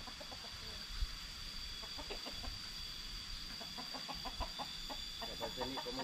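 Several chickens cluck in short, scattered bursts at moderate distance, with occasional louder bumps and a steady outdoor hiss behind them.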